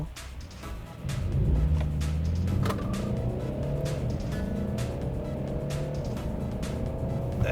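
A 2016 Mercedes E Class accelerates hard from 0 to 100 as heard from inside, engine tone climbing through several rising gear sweeps, steady and fairly loud with no talk.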